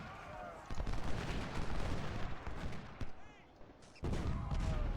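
A musket volley from Civil War infantry in the game Ultimate General: Civil War, Manassas supply raid, comes as ragged crackling gunfire with booming shots and dense battle noise, pausing briefly before another loud burst.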